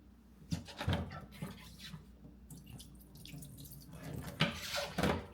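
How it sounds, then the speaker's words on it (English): Water dumped out of the tank of a Dupray Neat steam cleaner, splashing and pouring in uneven bursts with a few louder gushes over several seconds, no voices. "So I'm just gonna like dump out some water."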